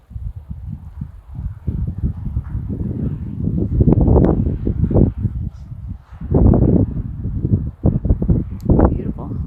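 Gusty wind at a big lake in Santa Rosa State Park buffets the microphone with loud, close, low rumbling bursts that rise and fall unevenly.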